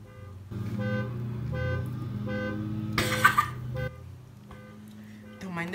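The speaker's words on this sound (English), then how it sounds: "The beeping and the people cutting the grass outside." A car beeps outside in a string of spaced electronic tones of varying length. A louder burst of noise cuts in midway, and faint voices sit in the background.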